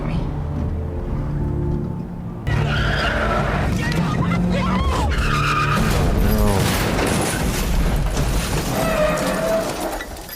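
A car skids and crashes in a film scene, with loud tire squeal, sudden impact and shattering debris over several seconds, while people react with talk.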